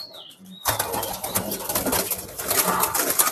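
Pigeons in a loft in Mirpur: a soft coo at first, then a sudden loud flurry of flapping wings and scuffling close by that keeps going in uneven bursts to the end.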